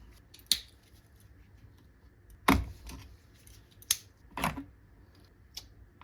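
A knife snips through a Husqvarna weedwhacker fuel line in a few sharp, separate cuts spaced over several seconds, close and fairly quiet with no talking.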